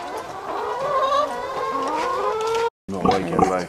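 Backyard hens cluck and call with drawn-out, rising squawks, close and fairly loud, while a person speaks briefly over them.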